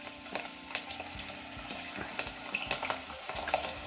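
Meat sears in a hot pan as the first step of a traditional pilaf, a crackling sizzle dotted with frequent utensil clicks and scrapes, close and moderately loud.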